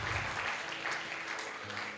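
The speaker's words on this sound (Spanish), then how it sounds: "Dale fuertes palmas de alabanza al Señor Todopoderoso." Congregation applauding during a church service, a dense, steady wash of clapping filling the room.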